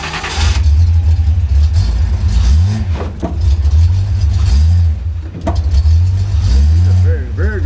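A Datsun 240Z with a low, grabby clutch pulls away in first gear, its engine note dipping and surging in jerky pulses as the car lurches forward, loud and close from inside the cabin.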